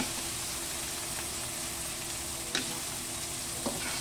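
Pork cubes and chili sautéing in a pan, a steady close sizzle with faint crackle and a couple of sharp utensil taps against the pan.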